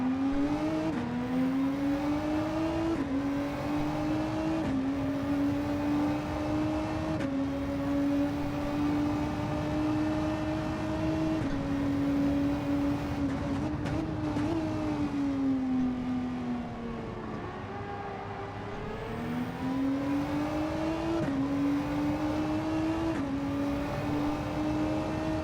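RX Vision race car engine in a racing video game, a continuous loud drone that climbs through repeated upshifts, dipping briefly near the end before rising again, with no talk.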